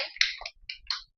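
A few quick hand claps from a small classroom group, sparse and close, lasting about a second with quiet gaps between bursts.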